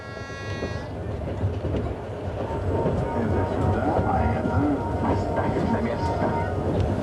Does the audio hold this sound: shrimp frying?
no